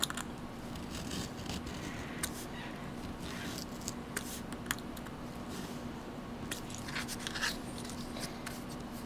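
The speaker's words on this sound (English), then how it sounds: "Okay, so now I'm just going to get my X-Acto knife and cut those slits." An X-Acto knife cuts slits into a paper card, producing faint, close scratchy scoring sounds and light taps spread across the span, over a low steady background hum.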